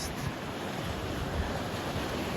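Steady surf washes continuously where the Baltic and North Seas meet off northern Denmark, a broad roar of waves with wind noise across the microphone, no voices.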